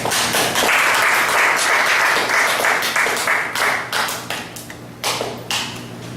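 A seminar audience gives a round of applause, a dense wash of clapping hands close by that slowly thins and tapers toward the end.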